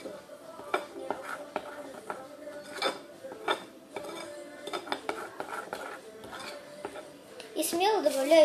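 A metal spoon clinking against a bowl or dish while more batter goes in for a microwave cake made at home, with sharp repeated taps and scraping stirs in an irregular rhythm, close and clear under a voice speaking.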